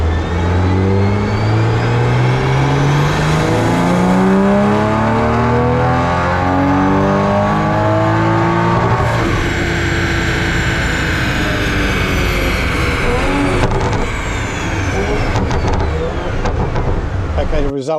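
A Toyota Supra fitted with an MST intake revs hard on a dyno, its engine note climbing through sweeping rising pitches, then dropping and rising again in a long, loud, continuous pull lasting nearly twenty seconds.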